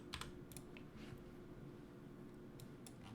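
Soft, rapid typing on a computer keyboard, with irregular bursts of light key clicks over a steady low hum, close and fairly quiet.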